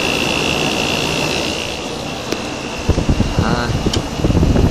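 A 1970s GE Slumberline 5,500 BTU window air conditioner runs with a steady fan whoosh and a faint constant whine, loud and close, with a few clicks and a voice near the end.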